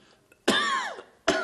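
A patient coughs on request during a doctor's examination: a single loud, close cough burst, a short pause, then the start of a second cough, with no talk.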